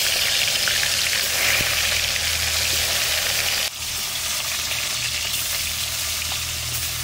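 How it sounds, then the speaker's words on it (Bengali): Fish sizzling steadily in mustard oil in a wok, a dense continuous hiss of frying with a brief dip midway, close and fairly loud with no talk. "মাছ কটা ভেজে নেব।"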